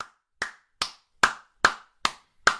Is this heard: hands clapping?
yes